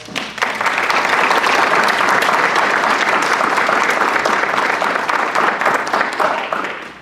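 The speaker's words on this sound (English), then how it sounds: "they all deserve a fine round of applause" Loud, sustained applause from the audience at a district candidate forum held by a ward Democrats group, with dense clapping that swells quickly and holds steady for several seconds.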